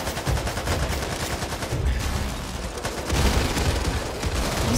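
Dense, continuous gunfire from the zombie co-op shooter Back 4 Blood, a loud, steady barrage of rapid shots with no clear breaks, carrying on with only a slight dip partway through.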